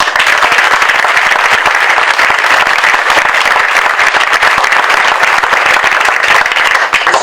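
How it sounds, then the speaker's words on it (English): Audience at a city address event applauding theater performers, a loud, dense, continuous round of clapping from a large indoor crowd. "Let's give a big round of applause for the performers of the Miles Square Theater for that preview of Snow White."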